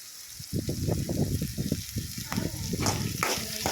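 Onions and fresh green peas fry in hot oil in a pan, a close, steady sizzle broken by rhythmic stirring scrapes and crackles.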